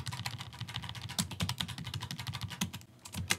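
Fast, steady key clatter on a computer keyboard while writing a script, dense clicks close to the mic with a brief pause near the end before typing resumes.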